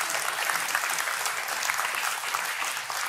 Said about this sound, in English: Go ahead and clap if you're going to clap and don't leave her hanging.